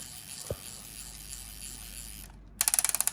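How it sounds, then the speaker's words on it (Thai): Winding wheel of an HK416 airsoft hi-cap magazine cranked by hand: a low mechanical hum, a brief knock, then a quick run of about eight loud ratcheting clicks close up. "เดี๋ยวเราปั่นตรงนี้ก่อน ปั่นลูกกระสุนจะขึ้นตรงนี้นะครับ"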